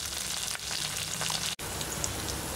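Curry leaves and coriander stems fry in hot oil for tamarind rasam, a loud, dense, steady sizzle close by with one brief break, and no voices.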